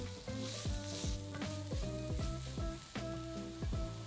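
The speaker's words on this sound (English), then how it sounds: "Once the onion has softened, then add in 2 cloves of minced garlic and cook for another minute," Onion and minced garlic sizzle in a pan while being stirred often, a steady close frying hiss broken by repeated spoon scrapes and clinks against the pan, with no voices.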